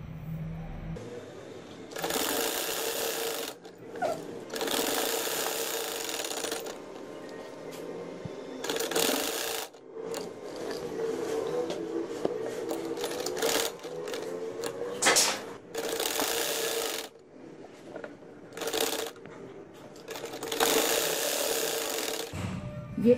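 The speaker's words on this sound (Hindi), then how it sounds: "अब आप आराम से सिलाई लगा लें।" A sewing machine stitches a zip onto the back of a kameez, running in repeated bursts of buzzing stitching with brief pauses between, fairly close and steady.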